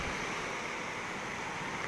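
Sea surf on Koh Phangan during Storm Pabuk roars as a steady, broadband wash of waves mixed with wind noise, with no talking.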